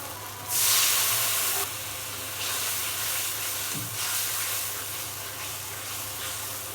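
Turmeric, coriander and chili powder with salt frying in hot oil make a loud hiss that flares, drops, then returns as a quieter steady sizzle.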